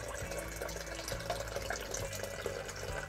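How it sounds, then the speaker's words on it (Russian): A garden fountain set on a terrace gazebo trickles and murmurs quietly, a soft continuous splashing of water with faint gurgling pulses. "Вот так журчит вода"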